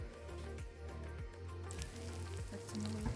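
Chopped ginger, and then garlic, frying in hot oil in a pan for a Kerala star fruit pickle. The sizzle is steady and close, with soft stirring scrapes underneath.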